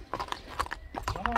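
A horse walks slowly at a sale, its hooves giving soft, irregular clip-clops close by while someone talks over them.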